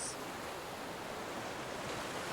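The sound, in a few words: ocean waves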